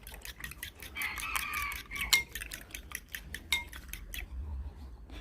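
Eggs being beaten for a Thai omelette, a rapid series of sharp clinks as a utensil strikes the bowl, close and distinct, then stopping near the end.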